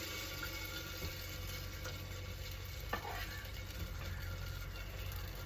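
Hot ghee sizzles and fries steadily as batter for Kannur appam is poured in, a continuous broadband crackle with faint scraping and stirring clinks, fairly close and with no talk.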